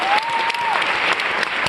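Audience applause welcoming Maya Willis onstage, a dense steady wash of clapping throughout with a faint tone sliding through early on.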